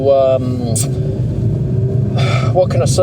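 Steady low road rumble fills the inside of a moving car while a person talks continuously over it, the engine and tyre drone staying constant underneath.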